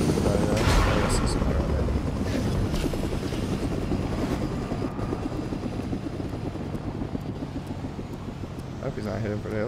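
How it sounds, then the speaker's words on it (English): Helicopter in the video game Fortnite on Switch, a loud, close, continuous rotor thrum with engine drone, along with scattered gunfire-like bursts and occasional speech. "I can still use this helicopter since I got Silver Surfer's ability"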